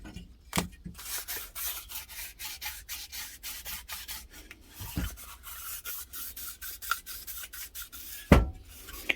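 A Suzuki TS125 cylinder bore is scrubbed by hand with light back-and-forth rubbing, a close, even rhythm of short scraping strokes that keeps up throughout, broken by a couple of brief knocks.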